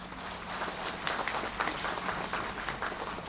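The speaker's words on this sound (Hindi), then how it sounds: "देवी सज्जनों, आदरणीय जनों का अभिनंदन जोरदार तालियों के साथ।" Applause from the audience at a Commonwealth parliamentary conference inauguration in India, a dense, even patter of clapping that holds steady for the whole stretch, moderately loud with no clear voices.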